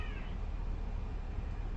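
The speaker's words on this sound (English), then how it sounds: "Oh, cats are being mean to each other." Cats meow and yowl at each other outdoors in a sustained, harsh caterwauling squabble, loud and continuous throughout with no talking over it.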